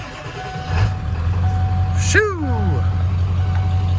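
Ford 7.3 diesel engine idling in a 1996 F250 truck, a steady low rumble close by throughout, with a brief descending whistle-like sweep midway and a short spoken exclamation.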